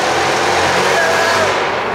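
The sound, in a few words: car exhaust sound in a tunnel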